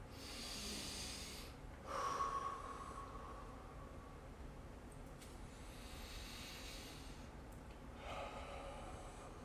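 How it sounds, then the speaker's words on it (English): Slow, deep breaths taken during a stretch in a squat mobility session, long airy inhales and exhales that are faint, with a soft rushing quality and no speech. "deep, relaxing breaths here"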